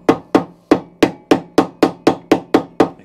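A soft blow hammer strikes a socket on a Hayter 41 lawn mower in eleven evenly spaced, sharp taps, each a close, dull knock with a brief ring.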